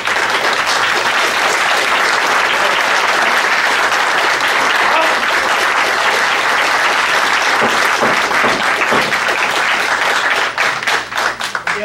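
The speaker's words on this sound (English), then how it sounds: "if we could hold the applause" A large room full of people applauds loudly and steadily at a community meeting in Concord, New Hampshire, the dense clapping thinning into a few scattered claps near the end.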